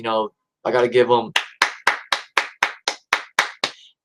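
Eleven sharp, evenly spaced hand claps ring out one by one at close range after a short burst of voices, applauding a women's wrestling match.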